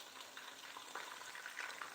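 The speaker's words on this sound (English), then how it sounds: "So I'm frying the meat now so that the flavor of the meat, the steamed meat, will enter inside the oil." Meat frying in oil for a Sunday lunch of rice and efo riro, giving a steady, close crackling sizzle with small pops throughout, no voices.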